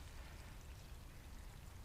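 Water from a siphon draining a flooded basement pours out of a hose end in a steady, faint, continuous trickle and splash.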